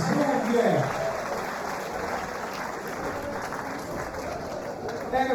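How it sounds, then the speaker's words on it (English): A boxing exhibition crowd applauds in a steady wash of clapping that holds for several seconds, with an announcer's voice carrying over it at the start and again near the end. "give them a round of applause, please"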